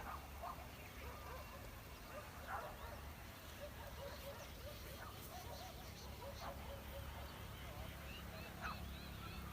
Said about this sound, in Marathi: गावाकडचा आवाज पक्ष्यांचा कुत्र्यांचा